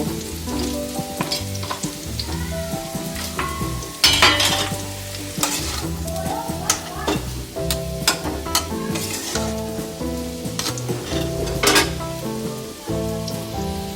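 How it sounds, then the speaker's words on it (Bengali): Potato pieces fry in hot oil, a continuous crackling sizzle with brief stirring bursts, heard under prominent background music. "আলুটা ভালোভাবে ভাজা হয়ে গেছে"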